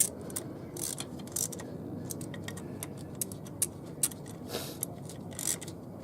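Ratchet wrench tightening a bolt under a Jeep JKU during an oil leak repair, a quiet series of light clicking ratchet strokes in uneven bursts over a low background hum, with no speech.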